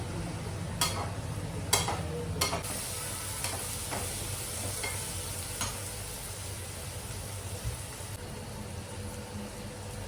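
Onions fry in a pan as the base for a fish curry, a close, continuous sizzle with a few sharp clatters of a spoon against the pan near the start, with no voices.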